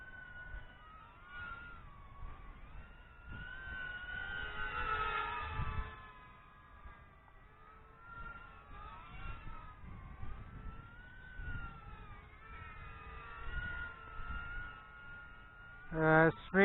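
A T-Motor Falcon 15, a 95mm 2-3S brushless mini drone, in flight: its motors give a continuous whine whose pitch sweeps up and down, swelling loudest around the fifth second. A sharp, brief burst comes at the very end.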